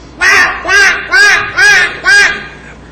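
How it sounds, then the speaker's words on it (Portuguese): Five loud, harsh, evenly spaced bird calls that sound somewhat like a seagull, each with a rising and falling cry, heard alone with no talking. "Parece uma gaivota, não é?"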